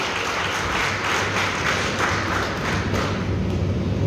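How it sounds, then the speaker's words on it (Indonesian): A church congregation at a Sunday service breaks into dense, continuous applause, a steady wash of many hands clapping together at full volume with no talk above it. "Tepuk tangan buat Tuhan Yesus."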